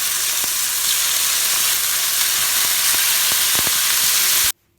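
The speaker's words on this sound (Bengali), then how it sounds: "তারপর এই চিকেনগুলোকে ভাজি করে নেবেন" Loud, dense sizzling of chicken frying in a hot pan, with faint knocks of a utensil, cutting off abruptly at the end.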